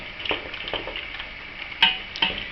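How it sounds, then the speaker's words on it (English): Pectin being stirred into a pot of apple pie jam, giving soft scraping strokes at a close, quiet level, with a couple of sharper clinks of the spoon against the pot. "I'm going to sprinkle this in, and I'm going to just stir it up"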